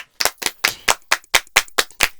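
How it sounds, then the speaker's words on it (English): Sharp, evenly spaced claps ring out at a stand-up comedy show, about nine loud, distinct strikes in a steady rhythm, close and crisp with silence between each. "Damn, that's a strong ass clap."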